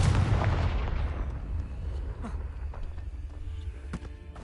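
A Confringo spell explosion in Hogwarts Legacy goes off as one loud, booming blast at the start, then a rumbling decay with faint crackles and thumps trailing behind.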